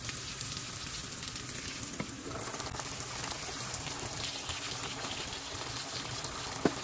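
Water bubbling in a pot while coconut rice cooks, a continuous steady sizzling, fizzing bubble noise at close range with a couple of small clinks.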